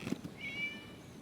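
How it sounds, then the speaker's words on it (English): A single short cat meow in the video game Genshin Impact rises and fades, fairly quiet, over a soft low background rumble. "It was just a cat."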